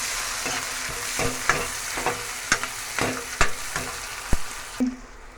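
Onion, ginger, garlic and chillies frying in a pan for a cabbage and potato curry, a steady sizzle broken by frequent scraping knocks of a stirring spoon, close up with no talking.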